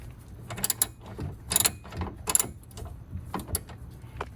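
A ratchet tightens the bolts on a CWA100 water pump in an Audi B8 S4, close-up bursts of quick clicking and metallic ratcheting with short pauses between strokes.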